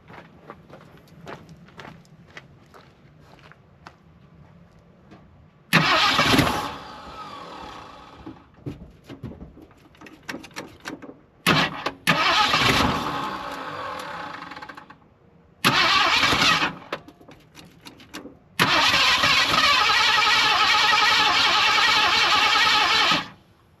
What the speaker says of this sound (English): Acts like it's only firing when it's cranking.